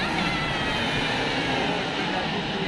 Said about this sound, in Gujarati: નજીકમાંથી પ્લેન જતું હતું